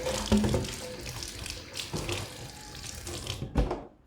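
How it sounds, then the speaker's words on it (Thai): Tap water runs steadily into a sink as fish are rinsed clean after chilling, splashing and sloshing with brief louder surges of handling, close by and with no talk. "ออกจากตัวเย็นมาก็ล้างอีกรอบนึงเนาะจ้าเพื่อใส่ปลาสะอาด"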